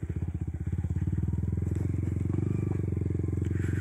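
A motorcycle crosses a river where there is no bridge, its engine chugging steadily and close up in a continuous rhythmic pulse.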